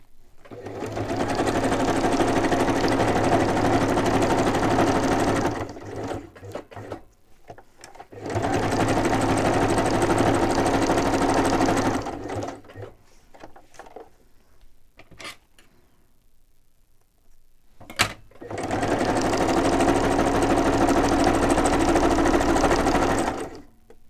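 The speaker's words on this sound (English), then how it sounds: "I'm going to put my zigzag on, and I'm just going to stitch all the way around" A sewing machine runs a zigzag stitch around the edge of a fabric pocket in three long, steady bursts, each several seconds of continuous whirring, broken by quiet pauses and a brief sharp click.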